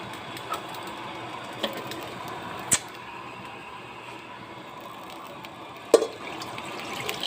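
Water runs into a cooking pot for chicken soup with a low, steady gurgle, broken by a few sharp metallic clinks and knocks.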